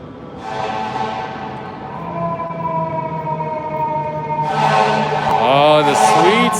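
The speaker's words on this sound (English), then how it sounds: "Oh, the sweet sound of sirens in New York City." Emergency vehicle sirens wail through a Manhattan street at night, long sustained tones over steady traffic rumble, swelling louder as a second siren joins with rapid yelping sweeps near the end.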